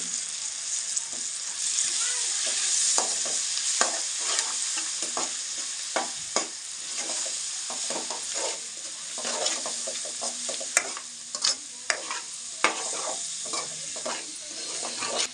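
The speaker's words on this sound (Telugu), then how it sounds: "పసుపు యాడ్ చేసుకొని కాసేపు మిక్సీ చేసుకోవాలి" Ginger garlic paste and turmeric fry in oil for fish curry, a constant sizzle with repeated scraping and clinking strokes of a spoon against the pan, close and busy throughout, with no talk heard.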